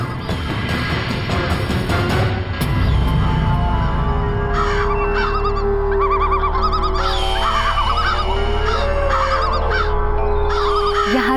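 A large flock of birds gathered near the city of Dwarka in a devotional TV drama: overlapping honks, squawks and chirping calls, loud and close, layered over a steady rumbling bed and swelling background sound, with no talking.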